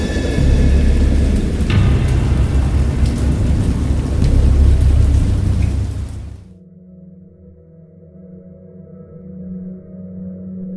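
Heavy rain and rolling thunder in a storm scene from the video game Dagon, a loud dense roar for about six seconds before dropping away to a low, quiet ambient hum.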